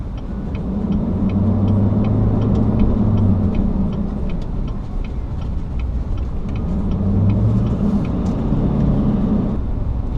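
A 2015 GMC Sierra Denali HD 2500 with its 6.6-liter V8 Duramax diesel hums steadily from inside the cab, a smooth, subdued low drone with faint ticking and no talking.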